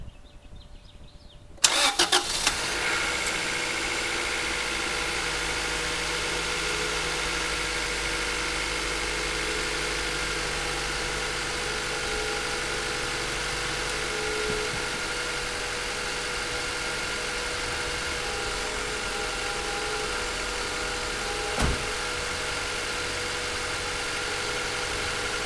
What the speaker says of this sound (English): hopefully you guys can hear it starts right up and no weird sounds here and there, runs fairly smooth